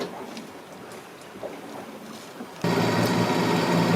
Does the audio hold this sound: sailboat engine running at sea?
yes